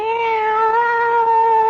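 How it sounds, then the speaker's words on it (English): A cat-fight sound effect from a radio drama: a single sustained, loud cat yowl, steady and tonal, heard close and alone for almost two seconds. "Teeth are bared. Claws are unsheathed. Fur flies. It's a cat fight."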